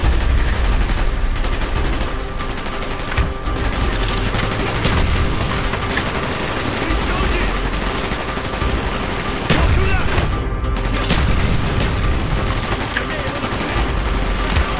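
Video game battle in Call of Duty Black Ops: sustained machine-gun bursts and rifle gunfire crackle almost nonstop at high volume, with scattered booms and brief gaps, plus faint voices under the shooting.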